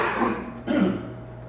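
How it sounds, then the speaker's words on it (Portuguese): A single harsh cough bursts out twice in quick succession, close and fairly loud, from a lecturer in the middle of an immunology talk, with no speech around it. "Cara, que tosse chata."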